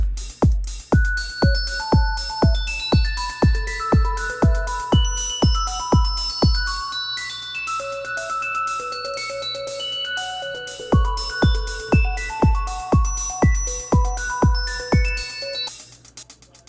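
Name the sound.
electronic open hi-hat pattern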